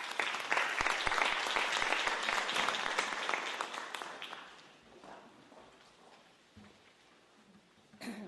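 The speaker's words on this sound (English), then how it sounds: "Let's give her applause." Audience applause for a speaker at a business panel on talent retention: steady, dense clapping for about four seconds, then thinning into scattered claps and room noise, with a brief burst near the end.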